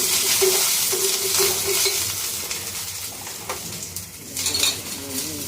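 Curry leaves sizzle in hot oil as a tempering for chutney served with dosa, a steady crackling fry with a few utensil clinks and stirring scrapes near the pan.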